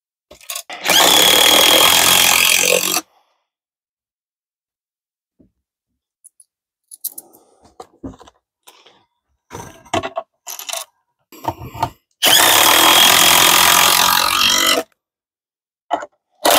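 A power drill drives large lag screws into a wooden swivel plate for an Adirondack glider chair, with two loud sustained bursts of motor whir separated by scattered clicks, taps and handling noises.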